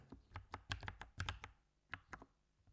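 Quick bursts of keystrokes on a computer keyboard as a Hello World program is typed, clicking in uneven clusters with short pauses, close and fairly quiet with no voices.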